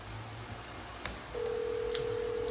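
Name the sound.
telephone dialing tones placing a call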